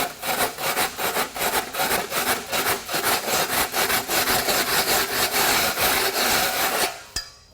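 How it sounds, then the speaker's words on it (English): Steady rhythmic scraping of dried drywall mud off a concrete surface, repeated strokes in a fast even cadence, close and loud for about seven seconds, then stopping. "this is where you could possibly come in and scrape it"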